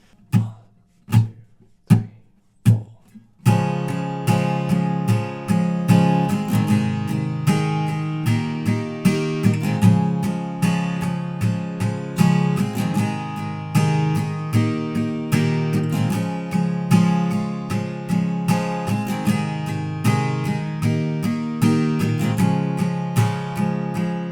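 An acoustic guitar plays the chorus of a song: a few separate strummed chords, then steady, rhythmic chord strumming that stays loud and close, with no voices.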